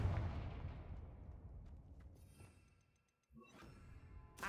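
The Confringo blasting spell fires in a Harry Potter video game: a booming blast that rumbles and fades over about three seconds, a brief gap, then a sharp second burst with crackling debris.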